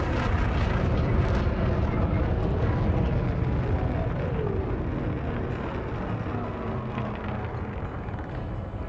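A spaceship boost in the game Elite Dangerous: a loud, continuous roaring thrust with a dense rumbling wash that holds strong throughout and eases only slightly toward the end.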